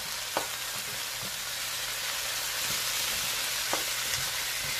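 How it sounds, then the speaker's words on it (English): Seasoned coconut red snapper fish stirred in a pot, a steady close sizzle with a few soft spoon scrapes and knocks spaced through it, no voices. "Give it a little stir."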